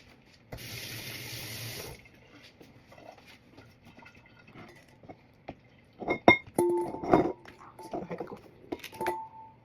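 A kitchen tap runs briefly while hands are washed before making leche flan, a steady wash of water for a second or so, followed by scattered clinks, taps and handling noises at close range.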